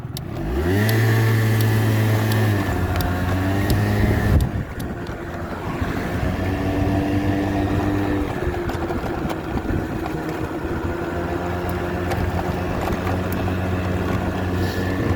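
A Honda Dio AF34 scooter rides along a road, its small engine droning steadily and close, with a shift in pitch partway through as it eases off and picks up again, no talking over it.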